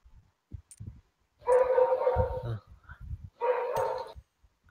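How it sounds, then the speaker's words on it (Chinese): During a PUBG Lite game session, a dog gives two loud, harmonic bursts of barking close to the microphone, separated by a short pause, with light talking and clicks around them. "怎么狗叫声？"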